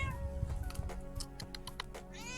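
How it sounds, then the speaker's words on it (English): A cat meows a few times up close, short soft calls over a steady background hum and faint clicks, with no talk over them. "What a cute cat."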